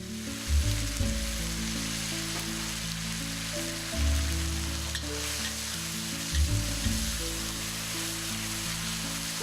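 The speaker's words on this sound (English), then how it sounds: "add diced tomatoes. Give it a good mix and cook for 1 to 2 minutes" Diced tomatoes with ginger sizzle in hot oil for a vegan spinach stir-fry, a continuous crackling hiss broken by several louder stirring scrapes and clatters of the utensil in the pan.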